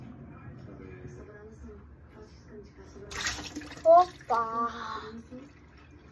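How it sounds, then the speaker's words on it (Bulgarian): Liquid is poured from a bottle into a small glass, a brief splashing trickle that rises midway and stops, with a voice exclaiming over it. "Можете да гледате плека-плека как си наливам с тази чашка."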